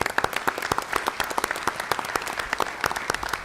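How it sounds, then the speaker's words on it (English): Audience at a Northborough annual town meeting applauding, with distinct individual claps standing out in a loose, uneven rhythm across a moderately sized crowd, heard at a steady middling level. "I ask for a round of applause"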